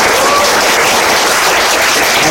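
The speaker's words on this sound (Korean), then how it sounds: "이정열 전파님께 다시 한번 큰 박수 부탁드립니다" An audience gives a lecturer a big round of applause after a standing talk, dense sustained clapping that fills the room evenly and loudly for the whole moment, with no talk over it.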